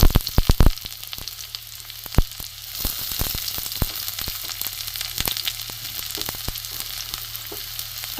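Chopped onion hits hot oil in a pan, crackling with a constant close sizzle while frequent sharp clacks of a stirring spoon ring out, loudest in the opening second.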